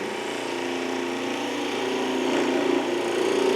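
A wood lathe, slowed down, whirs steadily while a spindle gouge cuts the spinning wood, giving a continuous close hum and a faint scraping hiss with a slight whine.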